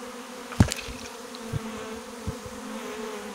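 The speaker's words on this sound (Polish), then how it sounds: "Może to dwa roje wyszły i poszły pszczoły w jednym kierunku" A honeybee swarm hums low and steady throughout, a soft continuous drone with a few brief louder close passes near the start, outdoors where two swarms may have issued at once.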